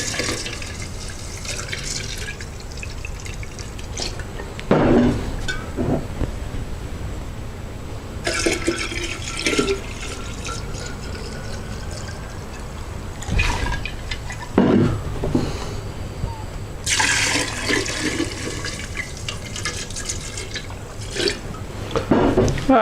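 Roasted pumpkin and roasted corn bourbon is poured into a container in several gushing bursts, splashing and trickling between pours, close and fairly loud.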